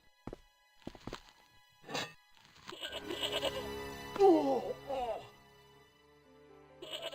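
A goat bleats in the Broken Sword point-and-click adventure game, a wavering cry following a few hollow thunks and footstep-like knocks, with game voices or music around it.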